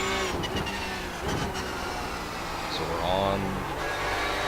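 A race car engine on the iRacing simulator at Watkins Glen's Classic Boot layout hums and rises in pitch as throttle is picked up, a steady loud drone with people talking over it.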